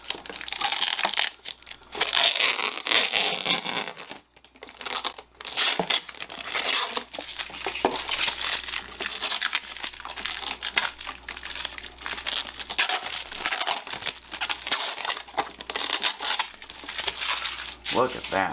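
Packaging being unwrapped from a small aquarium protein skimmer: steady close crinkling, crumpling and tearing of plastic and paper for most of the stretch, with brief pauses.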